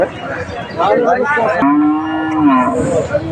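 Cattle lowing at a busy pre-Eid cattle market, one loud, close moo with a long steady tone rising out of a noisy crowd murmur.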